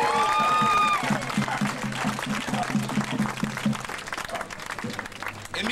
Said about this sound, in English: let's give a round of applause for all the students at Seattle Central